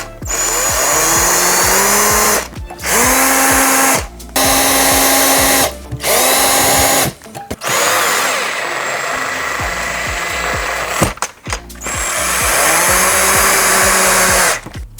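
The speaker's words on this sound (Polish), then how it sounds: "Etap, w którym przykręcałem zawiasy, jak możecie zauważyć, są przykręcane na małe wkręty." Power drill driving small screws to fasten cabinet hinges, several loud whirring bursts that rise and fall in pitch, separated by brief pauses, close up with no talking.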